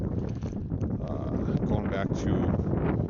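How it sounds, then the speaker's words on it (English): Wind gusts across a lakeshore during a solo camping and fishing trip, a rough blustery rush buffeting the microphone beneath a voice talking. "It's a little windy, but we're gonna still fish anyways."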